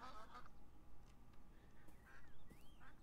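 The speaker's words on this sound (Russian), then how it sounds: "О, уточка!" Duck quacking in the video game Beyond Eyes, a few soft nasal honks over a low ambient hum, fairly faint and without any speech.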